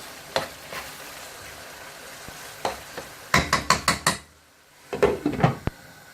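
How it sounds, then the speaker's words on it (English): Tomato masala for keema aloo cooking over a high flame, with bursts of stirring, spoon scrapes and pan clatter over a steady background sizzle, in several loud clusters separated by quieter gaps. "So leave this to cook on a high flame for around 5 minutes."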